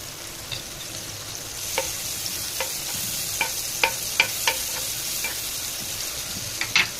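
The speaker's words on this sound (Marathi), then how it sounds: "पहिला आपण बटर घालून घ्यायचं आहे" Butter melting in a pan for chana chaat, a soft steady sizzle with a few scattered light ticks and pops, no voices.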